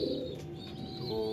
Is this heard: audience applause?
no